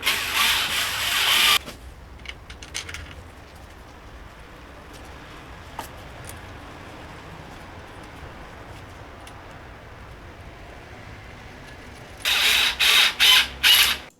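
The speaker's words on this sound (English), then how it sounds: "This electric screwdriver has the clutch and is easy." Electric screwdriver with a clutch driving screws into a Vespa PX engine block during a full engine overhaul: a short whirring burst at the start and a pulsing run of whirs near the end, with quiet room tone between.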